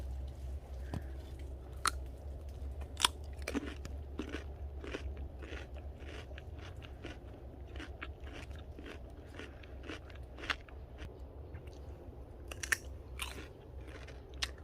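A freshly picked, misshapen cucumber from a field eaten at dawn, a series of crisp close crunching bites and chewing sounds at an irregular pace over faint low background hum, no speech.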